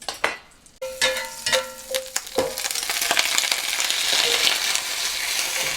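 Butter melts and sizzles in a frying pan as Italian-style vegetable sandwich fillings cook, a few metallic taps and clinks at first, then a steady, loud frying hiss that builds and holds.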